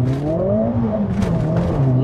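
Tuned Mercedes A45S AMG making a race-start launch with wheelspin, the engine holding a steady high drone that climbs slightly, loud and close throughout the two seconds with no talking.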